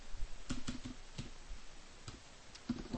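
Fingers tap at a computer keyboard in sparse, quiet clicks, a few isolated keystrokes spaced irregularly over a faint background hum.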